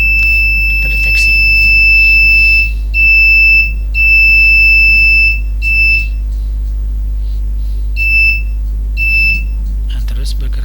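A smart fire detection prototype alarm sounds in repeated high-pitched electronic beeps of varying length, loud and close, over a constant low electrical hum.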